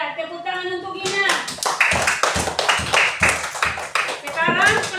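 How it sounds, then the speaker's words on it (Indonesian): A classroom of students claps for a girl named Gina, a burst of quick, uneven hand claps lasting a few seconds, close by, with voices speaking before and after. "Tepuk tangan untuk Gina."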